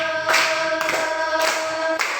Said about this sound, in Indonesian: tepuk tangan untuk Lisa.